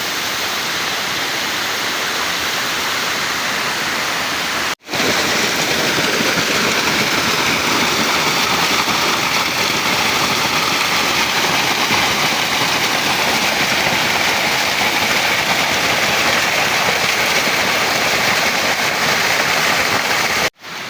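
A mountain stream in Montalban, Rizal rushes continuously, a loud, steady broadband wash of flowing water close by, briefly cut once early and again at the end.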